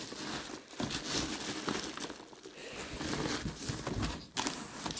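Continuous rustling and crinkling of newspaper being handled and crumpled while unpacking a parcel, close up, with brief pauses.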